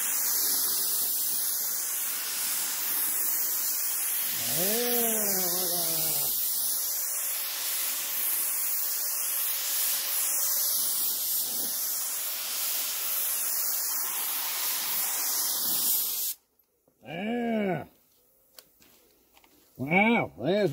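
Primer is sprayed onto a car body repair in sweeping hissing bursts that rise and fall in rhythm, close and loud, before the spraying stops and a few brief vocal sounds break the quiet.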